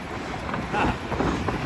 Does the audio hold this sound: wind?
yes